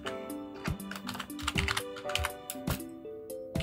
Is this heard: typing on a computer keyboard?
yes